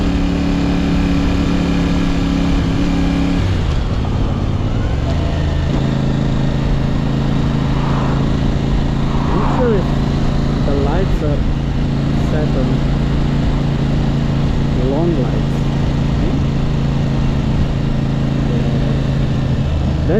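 CFMOTO 450CL-C bobber motorcycle cruising through countryside, a steady close engine drone running throughout with a few shifts in pitch as the ride changes pace, and a voice talking over it.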